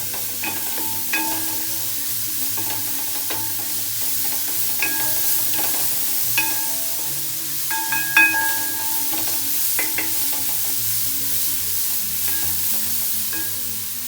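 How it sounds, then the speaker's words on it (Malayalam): Onion frying in a pan with crushed garlic and ginger added, stirred steadily: a continuous sizzle with repeated scraping and clinking of a spoon against the pan, close and moderately loud, for the whole stretch. "നമ്മുടെ വെളുത്തുള്ളിയും ഇഞ്ചി നമ്മളൊന്ന് ചതച്ച് വെച്ചിട്ടുണ്ട് അത് നമ്മളിതിലേക്ക് ഇടുക"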